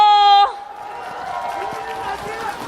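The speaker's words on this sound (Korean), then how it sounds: "박수로 맞아주십시오." A crowd at an outdoor presidential election campaign rally in Namyangju breaks into applause and cheering right after an announcer's amplified voice, the clapping and shouts forming a steady, moderately distant wash that continues to the end.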